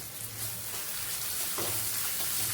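Grated coconut being sautéed in a frying pan for bun dosa, a steady close sizzle with faint scraping stirs and a brief louder stir in the middle, no talk.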